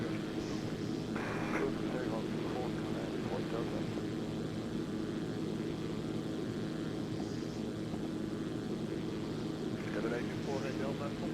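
A Zlin Z-142 propeller aircraft takes off in the X-Plane flight simulator with a steady, droning engine hum that holds level throughout, while faint radio-style speech comes and goes under it.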